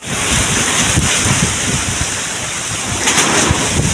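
Loud, steady wind roars against the microphone, buffeting continuously with gusty rumbles and no voices.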